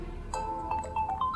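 A telephone ringtone plays in a Hindi drama scene, a short repeating electronic melody of bright tones sounding clearly and steadily over a faint background.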